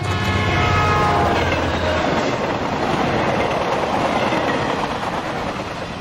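A train rushing past in the game Know By Heart, loud and continuous, with a horn blast at the start and a steady roar of rolling wheels filling the whole stretch.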